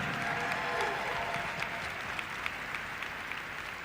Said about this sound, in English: a big round of applause for Miyavi